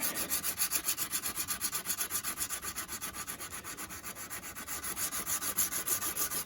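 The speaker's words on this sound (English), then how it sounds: "put it on a file, I'll start polishing that" A knife blade is polished by hand with used emery cloth wrapped on a file, giving a close, steady back-and-forth rasping in a quick even rhythm throughout, with no talk.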